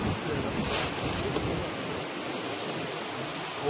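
Ocean surf at Om Beach near Honnavar makes a continuous broadband wash of waves mixed with wind buffeting the microphone. The sound is fairly close and steady, with no voices.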